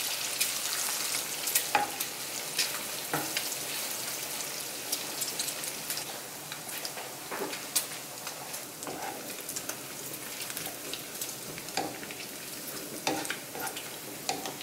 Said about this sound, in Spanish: voy a dejar este tocino que quede bien doradito, que quede bien tostadito.